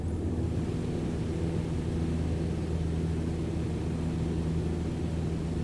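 Simulated light airplane engine at full power during a takeoff climb in Microsoft Flight Simulator 2020, a steady loud droning roar with low humming tones, unbroken and without voices.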